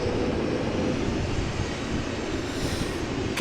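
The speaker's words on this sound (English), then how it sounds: "KLM flight 937, Embraer 190 going to Dublin." KLM Embraer 190 jet departing Amsterdam Schiphol, a steady broadband engine roar heard at a distance, holding level throughout with no voices.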